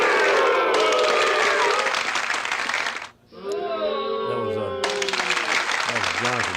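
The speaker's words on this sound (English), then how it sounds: "a big hand for Miss Bye, Celine Lee, everyone." An audience at a talk show applauds a guest with loud, dense clapping that breaks off briefly, then resumes; a voice speaks through the quiet gap and over the returning applause.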